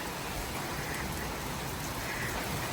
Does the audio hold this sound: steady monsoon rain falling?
yes